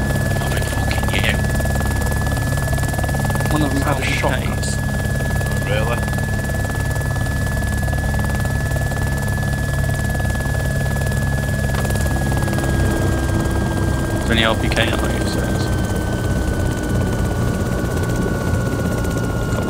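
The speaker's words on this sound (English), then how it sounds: "I'm on my way over in chopper" Helicopter flying in the video game DayZ, a steady low engine and rotor drone running throughout under players talking back and forth.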